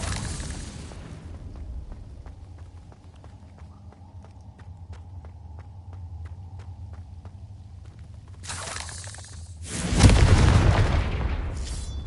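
A Confringo blasting curse explodes in the Hogwarts Legacy video game, a loud booming burst near the end that follows a low rumbling game ambience with faint rhythmic ticks.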